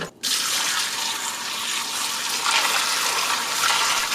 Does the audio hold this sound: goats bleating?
no